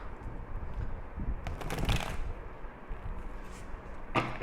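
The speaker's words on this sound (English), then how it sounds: "shuffle the cards" Tarot cards are shuffled quietly and close by in two short papery riffling bursts separated by a pause, with no speech.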